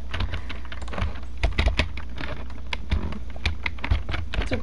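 Rapid keyboard typing mixed with mouse clicks during a Minecraft session, a steady stream of close, crisp taps with occasional louder bursts, alone without talk.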